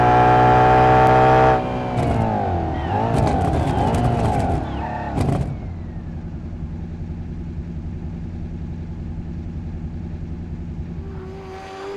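Car in a racing video game braking from speed: a loud engine roar drops off sharply, a warbling wash of tyre and engine noise follows, then the motor settles into a low, steady drone as the car slows.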